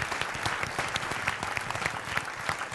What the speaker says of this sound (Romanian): Aplauze, doamnelor și domnilor!